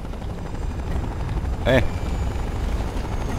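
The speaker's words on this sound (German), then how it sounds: "Da kommt jetzt ein Heli." A helicopter arrives in the video game Fallout 3 as a continuous low rotor thump under game ambience, with a brief voice exclamation midway.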